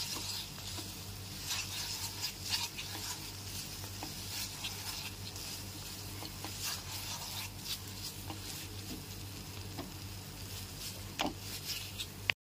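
A spoon scrapes and stirs continuously through thick mawa mixed with cashew powder in a pan, a steady close rubbing with a constant low hum behind it.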